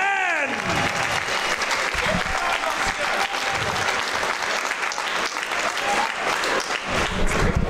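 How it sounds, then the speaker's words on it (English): Crowd applause fills the room for both fighters after the main event of an MMA-style combat show, Evolution of Combat 10, loud and sustained throughout, with a short falling tone at the start and a voice briefly audible beneath the clapping. "a huge round of applause for both competitors on the main event of Evolution of"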